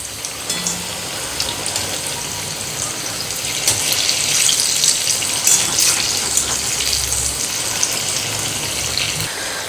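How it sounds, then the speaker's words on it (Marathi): Chana dal fritters frying in hot oil, with a steady loud hiss and crackle of bubbling oil and occasional sharper spatters throughout, with no voices. "आता आपण दुसऱ्या बाजूने हे पलटून घेऊयात आणि छान अशी खरपूस तळून घेऊयात"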